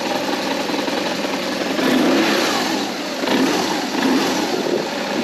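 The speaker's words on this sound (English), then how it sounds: "Whole bike shakes when you rev it" A BMW motorcycle engine revs at low idle, a steady mid-range throb swelling in a few short rises and falls, close and fairly loud with no talking.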